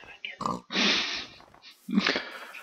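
Pigs in a video game grunt and snort in a few short, close bursts, with a voice mixed in among them.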